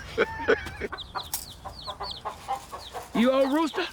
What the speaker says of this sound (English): You old rooster? You hear me?